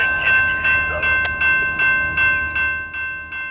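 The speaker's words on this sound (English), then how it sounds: "The train that was approaching us from the fog was CSX K30821" A CSX freight train emerges from fog on the Palmetto Subdivision near Little Manatee, passing close by with a rhythmic clickety-clack of wheels over rail joints, loud and steady, under a sustained horn-like tone.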